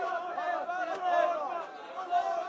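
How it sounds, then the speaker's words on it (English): A protest crowd near the Egypt-Gaza border chants in unison, many voices rising and falling together in a rhythmic, repeated call, loud and close throughout the short stretch. "People are chanting over and over again, with our blood, with our souls, we will defend Palestine"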